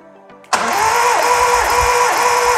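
A 1997 Honda Civic Ferio engine cranks on its starter during a compression test: after a brief quiet moment, a loud, steady, continuous whirring drone sets in and stays even with a faint rhythmic pulsing.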